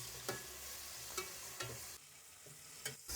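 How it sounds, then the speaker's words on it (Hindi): Ginger paste and tomatoes fry in a pan with a steady low sizzle, broken by a few short scraping stir strokes as the mixture is moved around. "अदरक का पेस्ट डालने के बाद हम इसको 1 मिनट फ्राई कर लेंगे।"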